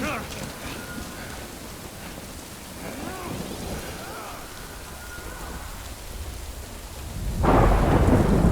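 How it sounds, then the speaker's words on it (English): Rain pours in the video game Death Stranding while low thunder rumbles through it, and a louder burst of downpour or thunder swells at the end. "Good thing it was raining."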